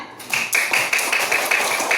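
Schoolchildren in a third-grade classroom clap together in a quick, close rhythmic pattern of sharp hand claps, loud and near, about two per second.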